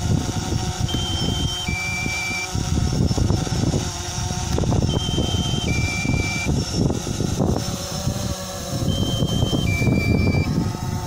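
The DJI GO app for a DJI Phantom 3 drone sounds its low battery warning, repeated short two-tone beeps recurring every few seconds over a loud, steady rotor and fan whir nearby.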